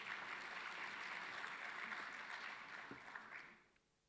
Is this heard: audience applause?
yes